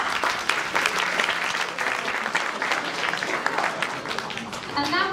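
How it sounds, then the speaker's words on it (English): Applause from a crowd at a sports awards evening rolls on steadily, with voices and chatter mixed through the clapping and a brief higher call near the end. "A round of applause for Ryan, everyone."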